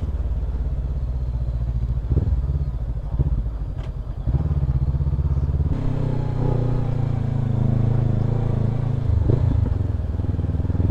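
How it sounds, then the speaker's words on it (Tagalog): A motorcycle engine labours uphill on a mountain road near Mount Timbak in Kibungan, Benguet, a steady loud low drone that shifts in pitch midway, close and continuous. "Hindi ba nahirapan yung motor niya?"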